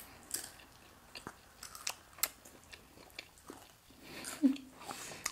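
Someone eats Chipotle tortilla chips up close during a mukbang, giving a handful of faint crunchy bites and chewing sounds over a quiet background with a short murmur near the end.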